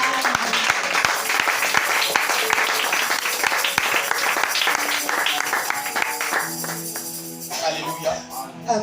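A church congregation applauds steadily at a worship service, dense clapping mixed with music and voices throughout, tapering off near the end.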